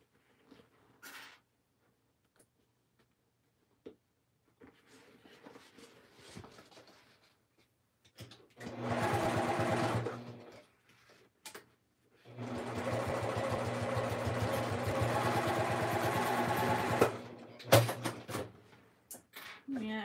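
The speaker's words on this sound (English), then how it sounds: "I had no issues sewing over the seam there" A sewing machine stitching fabric for a car trash can, running in two loud sustained whirring bursts, the second longer, with scattered handling noises and a voice talking between the runs.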